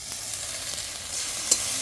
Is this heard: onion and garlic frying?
yes